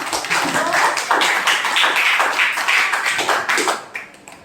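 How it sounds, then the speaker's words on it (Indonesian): A class of teachers in training applauds group 11, giving a sustained round of dense, brisk clapping that holds steady for several seconds and then tapers off. "Oke, tepuk tanganlah dulu untuk kelompok 11 ya."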